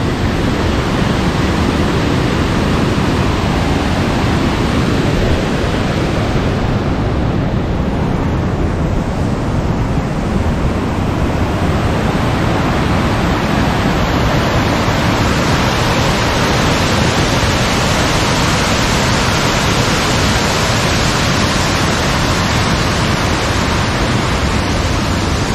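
Manimuthar waterfall at Manjolai, running high with heavy flow, roars as a loud, dense, continuous rush of falling water from nearby, unbroken and with no voices.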